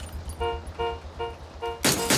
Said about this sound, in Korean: 그거 빵빵거리는 거 한 400m까지 들려요.